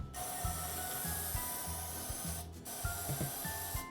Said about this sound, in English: take some regular cooking spray, and I'm just going to spray the inside of it